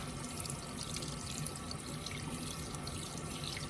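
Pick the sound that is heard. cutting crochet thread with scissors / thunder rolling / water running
water running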